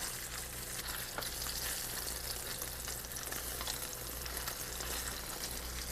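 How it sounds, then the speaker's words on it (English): Large pieces of catfish frying in oil, making a dense continuous crackling sizzle that holds steady and fairly quiet throughout, with no voices. "Now that's some fried catfish."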